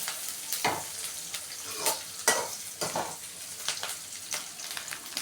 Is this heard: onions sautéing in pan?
yes